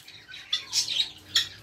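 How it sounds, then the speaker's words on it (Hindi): Birds, with pigeons among them, gather to feed, giving faint squawks and brief chirps with wing flutters over a quiet background, several calls spaced across the moment. "इससे आना शुरू हो गए सभी परिंदे करीब"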